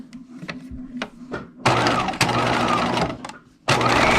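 A sewing machine runs a zigzag stitch in bursts. Light clicks and knocks from handling the fabric come first, then steady, loud, close stitching that pauses briefly and starts again.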